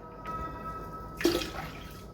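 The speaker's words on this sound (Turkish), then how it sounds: "2 su bardağı üzüm sirkesi ekleyeceğim." Grape vinegar poured into a 200 ml measuring glass, heard as a short liquid splash and trickle near the middle, close and fairly quiet with no talking.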